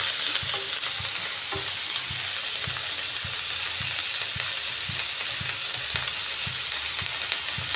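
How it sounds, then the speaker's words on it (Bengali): Onions frying in a pan, a steady close sizzle that goes on without a break, with faint regular stirring knocks and no talk. "পেঁয়াজটাকে খুব ভালো করে ভেজে নিতে হবে যাতে পেঁয়াজটা"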